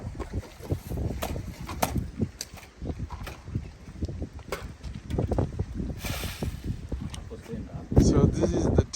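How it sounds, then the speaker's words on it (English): Strong wind gusting across an outdoor villa terrace where terrazzo flooring is being installed, a steady broadband rush with buffeting on the microphone, heard under ongoing talk by nearby people. "It's very windy, guys. Very windy here."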